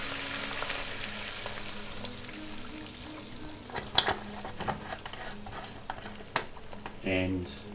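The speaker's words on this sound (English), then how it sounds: "Okay, so now that it's reduced, I'm going to add the beef stock." Beef stock goes into a pan sauce for steak and bubbles as it reduces, a soft sizzle with a few utensil clinks and a short voice near the end.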